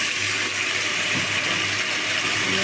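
Water rushes into a hot frying pan of spices and onions, a continuous loud hissing gush that fills the whole moment without pause.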